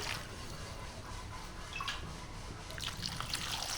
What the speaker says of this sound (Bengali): রাঙালুটাকে ভালো করে ধুয়ে নেব আগে